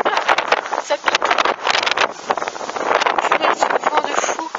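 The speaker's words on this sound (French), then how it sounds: "c'est un vent de fou" Strong gusty wind from storm Hans at Tour-en-Sologne, France, in August 2015, buffeting the microphone in loud, uneven rushes, roaring and dropping repeatedly over a few seconds.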